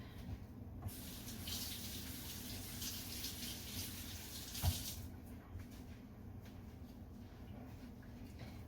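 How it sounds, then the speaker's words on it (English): Tap water runs steadily into a sink as hands are washed, a broad rushing hiss that swells between about one and five seconds, then settles to a softer flow with a faint clink partway through. "And I'm going to wash my hands."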